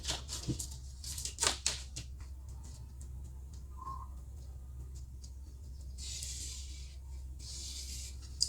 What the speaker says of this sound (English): 10 inches, and I will draw a straight line